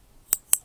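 Two sharp, close mouse clicks about a fifth of a second apart, crisp and isolated against near silence, as a button is pressed to send an online form.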